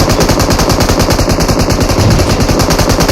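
Loud, close automatic gunfire at an amusement park rattles out as one rapid unbroken burst of shots lasting about three seconds.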